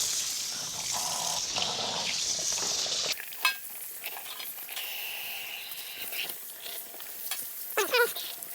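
Raw pork ribs are rinsed under running tap water, a hissing stream for a few seconds that then gives way to quieter splashing and wet handling of the meat in a sink, ending in a couple of louder sloshes.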